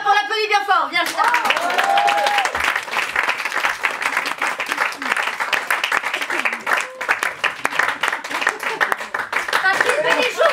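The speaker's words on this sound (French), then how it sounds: "on l'applaudit bien fort" An audience at a French comedy show applauds loudly with dense, continuous clapping and some cheering, after a brief burst of a voice at the start.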